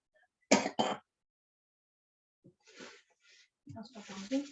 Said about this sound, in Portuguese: desculpe, eu estou com a tosse, eu sou portador do bronquite